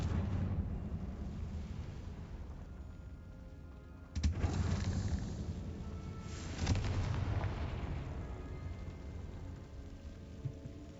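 Confringo spell blasts in the Hogwarts Legacy video game, two sharp booming explosions about two seconds apart over a low rumbling background, fairly muted overall.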